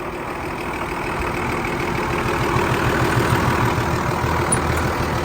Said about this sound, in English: this one runs good. And obviously you heard it starts up great